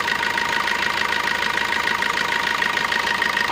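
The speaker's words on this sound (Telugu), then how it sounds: "ఇంజన్ సౌండ్ అయితే బాగుంది" A car engine idling nearby, a steady, even rumble with a faint rhythmic beat and no other sounds.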